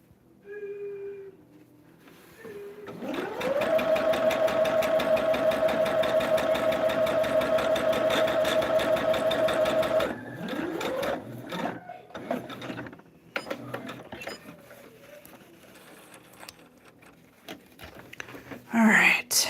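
Sewing machine stitching a quilted table topper, a steady rapid mechanical whirr running for several seconds at close range, then stopping, followed by fabric handling sounds and quiet movement.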